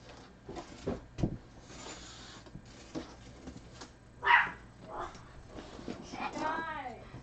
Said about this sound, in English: And now Alfred's barking at something.